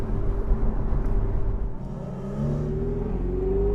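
A Ferrari 488 Spyder on throttle, its engine a steady rumbling drone that rises in pitch as the car accelerates, close and fairly loud with no voices.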